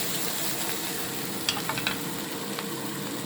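Peppers fry in a pan with a steady, bright sizzle, broken by a few light stirring clicks and scrapes partway through, close up with no talking.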